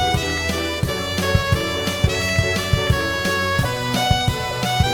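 Music track in a Jewish folk style resembling a Castlevania game theme, with a steady driving beat of sharp percussive hits under bright, sustained melodic lines, loud and continuous with no voices.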